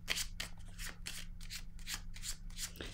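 Tarot cards being handled and shuffled in a rapid run of crisp papery flicks and slides, close and fairly quiet, with no speech.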